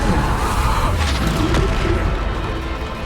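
A Bombarda spell detonates in Hogwarts Legacy, a heavy booming blast whose rumbling roar fills the whole moment and slowly fades, loud and close, with no voice over it.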